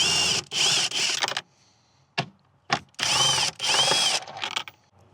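Ratchet or power driver spinning a deep well socket on a 10mm Jeep rear seat bolt, several loud close bursts of whirring with short clicks and pauses between them.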